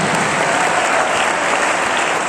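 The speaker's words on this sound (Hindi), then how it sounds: "जय हो, जोरदार तालियां।" Dense, steady applause from an audience at a Hindi poetry recital for World Hindi Day, a loud continuous wash of many hands clapping with no voices standing out.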